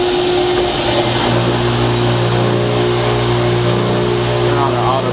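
A grinding wheel on a rotary blade sharpening machine spins up alongside the running vacuum, a loud steady mechanical drone with layered humming tones that holds evenly throughout.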